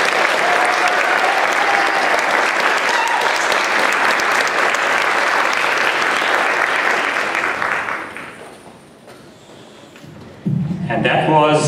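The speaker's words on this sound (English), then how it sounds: "you have to give a round of applause for Lillian too" An audience at the Saratoga's Got Talent 2013 show claps loudly and steadily after a performance; the applause fades out, then a brief burst of music or noise cuts in at the end.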